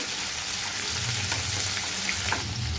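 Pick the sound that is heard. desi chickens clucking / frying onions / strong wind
frying onions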